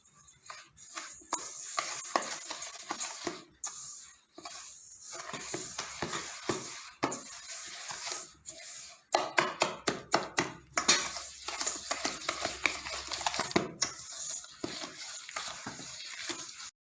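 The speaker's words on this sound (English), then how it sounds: "I also wanted to show you that you can do it with a wire whisk." Wire whisk beating butter and sugar by hand in a bowl, a steady run of quick scraping taps and clicks with short pauses, close and fairly quiet.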